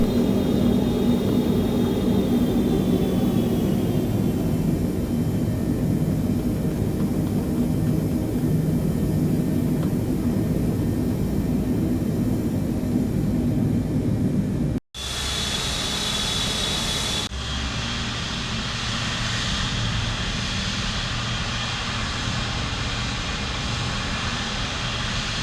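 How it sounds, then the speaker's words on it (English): A Boeing 777 in Microsoft Flight Simulator taxis toward the runway at night, its jet engines giving a loud, steady roar that breaks off for a moment and then carries on unchanged. "So I'm gonna go ahead and taxi to the runway, and then we can take off"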